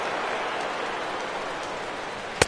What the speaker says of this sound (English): Well, Matt, the rain is really starting to come down